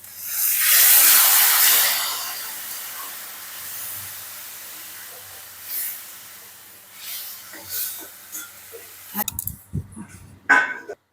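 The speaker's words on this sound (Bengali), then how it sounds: "এবার জল দিয়ে দেবো।" Water poured into hot fried spice paste for katla fish curry with potatoes, a loud sizzling hiss bursting up at first and fading over several seconds, followed by softer bubbling and a few kitchen clatters near the end.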